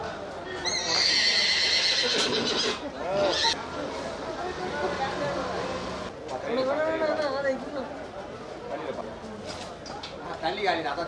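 A Marwari horse neighs loudly amid ongoing chatter and outdoor bustle at a horse market, with several people talking nearby.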